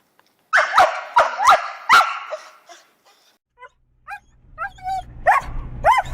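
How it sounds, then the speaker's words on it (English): An excited dog barks in quick, loud, high-pitched bursts, then shifts to thinner yips, whines and whimpers, close by, with a faint low rumble underneath later on. "High-pitched barking, whining, crying."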